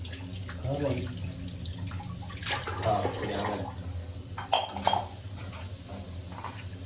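Water is scooped up with a glass and poured into a cooking pot while making chicken curry, heard as splashing and pouring with clinking of glass against metal and utensil clatter nearby, with a voice speaking briefly.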